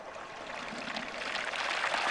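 Water pours from a moose calling horn held about four feet above the water, making a continuous splashing trickle that grows slightly louder, imitating a cow moose urinating.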